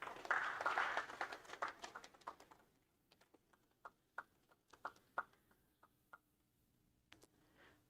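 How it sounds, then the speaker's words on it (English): Audience at a literary festival session in New Delhi applauds, with a brief burst of clapping that quickly thins into scattered, faint individual claps trailing off. "Let's give a warm round of applause as we welcome Mayuk Hazarika."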